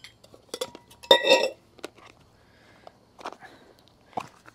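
A camping cooking pot holding a sponge and cleaning cloth clinks and rattles with a few close metallic knocks. The handling comes in short, uneven bursts, with one louder clatter near the start.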